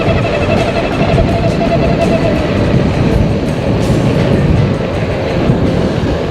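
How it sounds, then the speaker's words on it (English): A steady, loud mechanical whine and rumble of a Blix Vika X folding electric bike motor running at top speed and sounding odd, with a thin high tone riding over dense road noise throughout. "The motor starts to sound funny."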